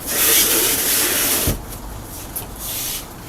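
A Camco removable RV toilet with a dump valve, fitted in a van, flushes with a loud hissing rush of water that cuts off sharply midway, followed by a softer, lingering trickle.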